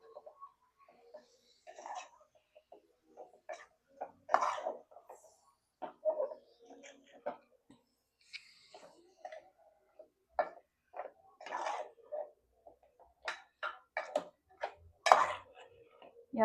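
Malvani chicken being stirred in a pot, scattered clinks and scrapes of a spoon against metal, with someone speaking quietly between them.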